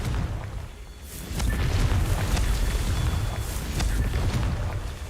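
A Confringo fire spell explosion in the video game Hogwarts Legacy, heard as a loud, rumbling blast that swells after a quiet start and holds as a dense, booming roar for several seconds with no talk.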